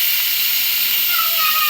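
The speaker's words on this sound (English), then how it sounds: "All right, all the steam has released," Steady, loud hiss of steam venting from an Instant Pot electric pressure cooker's release valve, a continuous rushing noise close by with a faint whistling edge toward the end.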